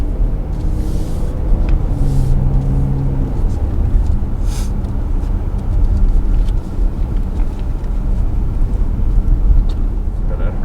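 A Kia Telluride SUV is test-driven on a proving ground track, its steady loud road rumble and engine drone running throughout while people talk inside the cabin.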